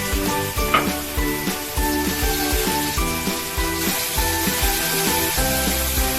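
Masala spice mixture sizzles and fries steadily in hot oil, with rhythmic scraping and stirring strokes against the pan running throughout, loud and close with no talking.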